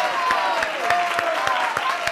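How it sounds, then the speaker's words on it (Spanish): Audience applause at a comedy show, a steady wash of clapping from a crowd with sharp individual claps standing out, loud and continuous throughout. "Un aplauso para Óscar Tramolleres, hombre."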